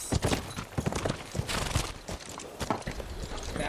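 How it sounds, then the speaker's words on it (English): A horse walks at an even pace, its hooves clip-clopping in clear, close, repeated beats with a steady rhythm over a light background. "And a beautiful horse."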